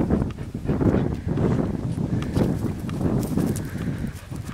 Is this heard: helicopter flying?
no